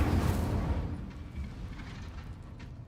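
A fire spell cast in the video game Hogwarts Legacy bursts out as a loud, rumbling whoosh that swells at the start and trails off into a low, sustained roar.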